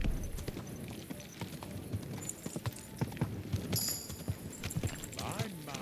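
Rapid hooves clip-clop at a gallop in Kingdom Come: Deliverance II, steady and close, with a faint game-like ambience behind and a brief high whinny-like tone.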